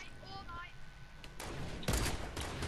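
Bursts of gunfire ring out during a Fortnite Battle Royale fight by a river, sharp cracks layered over ongoing game noise at a moderate distance.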